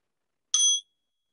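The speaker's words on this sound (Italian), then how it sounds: "porta tutta la tua attenzione al suono della campana" A single bell struck once during a guided meditation session, a bright, clean ring with a sharp onset that sustains briefly before fading quickly into silence, heard alone.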